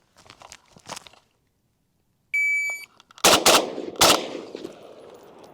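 FN FNC rifle shots ring out in a quick burst, loud and close, after a short electronic beep, with a sharp crack followed by a second shot and a decaying rattle.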